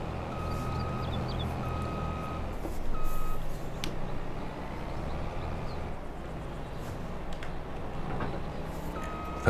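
Steady, evenly spaced reversing beeps from a truck moving a header trailer in Farming Simulator, clear over a rumbling engine and machinery drone, with no talk.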